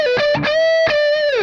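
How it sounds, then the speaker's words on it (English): A distorted electric guitar, run through a distortion pedal on a pedalboard with a Mooer preamp and NUX Cerberus, plays a loud sustained tone with a brief note change and two separate attacks, heard alone. "I actually turn on the distortion on the board"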